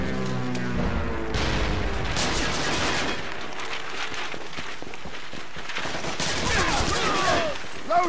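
Sustained bursts of automatic gunfire from a NorCal siege battle in the Devil's Third video game on Wii U, dense volleys and single cracks rattling throughout with brief shouted voices mixed in.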